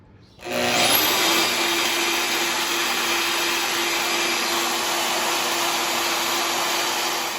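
A Milwaukee portable bandsaw spins up sharply and then runs steadily with its trigger clamped, giving a loud, continuous whirring drone close by with no cutting or talk.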